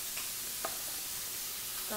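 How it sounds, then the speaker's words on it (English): A steak fries in garlic butter, giving a steady, close hiss of sizzling with a few faint pops and clicks of stirring, and no talking. "It's sizzling, boys."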